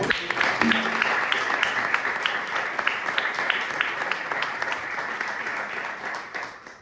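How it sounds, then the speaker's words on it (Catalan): An audience bursts into sustained applause for Nil at a Catalan book presentation on giants and six centuries of festive tradition, steady dense clapping filling the room for several seconds and tapering off at the end. "un fort aplaudiment pel Nil"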